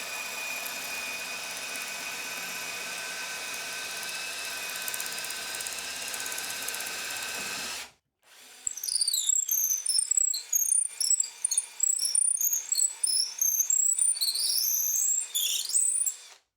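A simple hand cutter shaves a wooden dowel with a continuous grinding drone for about eight seconds, then a pause, followed by a run of sharp squealing, chattering bursts from the turning wood.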